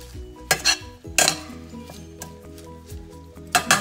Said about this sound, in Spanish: Echa un poquito de sal y pimienta, un poquito de limón, y vamos a remover.